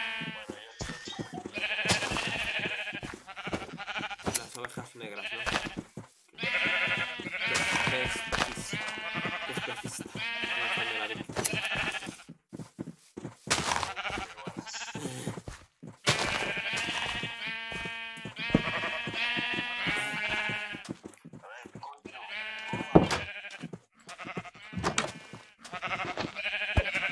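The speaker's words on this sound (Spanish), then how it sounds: "Las ovejas negras, ¿no?" Black sheep in Minecraft bleat over and over in loud, quavering calls that overlap almost without pause. The sound stays near and dense throughout.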